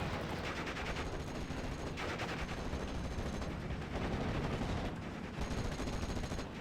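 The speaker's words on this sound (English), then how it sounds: "Let's put another machine gun on this flank." Machine gun fire in the WWII Normandy strategy game Steel Division Normandy 44: dense, continuous rattling bursts with overlapping gunshots, loud and sustained with brief dips, and no voices.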